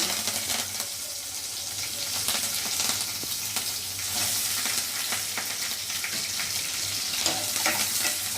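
Mustard-type tempering seeds and curry leaves crackle and fry in hot oil for a ridge gourd curry, a dense, close sizzle with scattered pops and stirring sounds running steadily, no voices.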